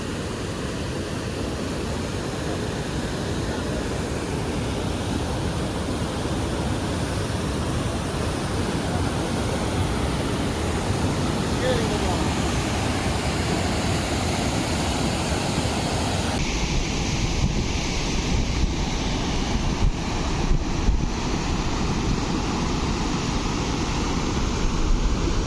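Water pours forcefully down Karimban kuthu waterfall in the hills, a dense, loud, continuous roar close by with no pauses, steady for the whole stretch.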